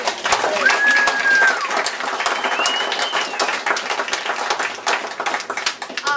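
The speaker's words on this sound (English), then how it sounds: "please, a big round of applause for Phil" Audience at a citizens' meeting workshop applauding, dense clapping throughout with whistled or birdlike tones and some voices mixed in.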